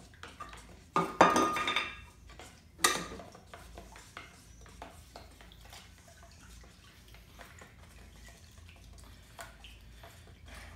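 Mixed automotive paint and reducer being stirred in a container, with scraping and clinking of the stir stick against the sides, loudest in two short bursts early on and then fading to faint light taps.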